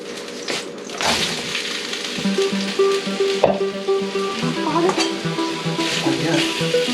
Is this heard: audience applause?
no